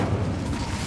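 Incendio fire spell cast in Hogwarts Legacy, a dense whooshing burst of flame with a low rumbling boom filling the short moment.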